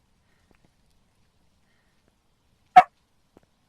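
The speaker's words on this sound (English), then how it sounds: "Dog!" A dog barks once indoors, a single sharp, close bark that cuts through otherwise near silence, followed by a faint tiny tap.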